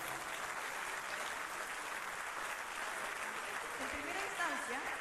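An audience at an industry meeting applauds the award winners, Walmart Chile and Tres Montes Luchetti, in a faint, steady wash of clapping, with a voice rising near the end.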